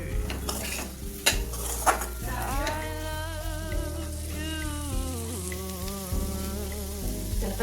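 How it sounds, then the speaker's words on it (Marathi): Sukhi val bean pods stir-fried with crushed peanuts in a pan: a soft sizzle under repeated scraping and clinking of a metal spatula, with a sustained melodic tone running beneath the cooking sounds. "त्याच्यामध्ये शेंगदाण्याचं कूट टाका. त्याला चांगलं परतून घेऊ."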